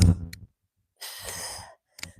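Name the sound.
inhaling breath during workout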